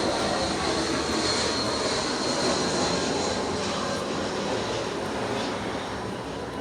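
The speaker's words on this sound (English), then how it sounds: "Hold on, airplane flying over." An airplane flying overhead outdoors, a steady broad engine roar held at moderate distance with no talk.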